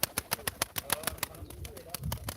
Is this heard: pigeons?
yes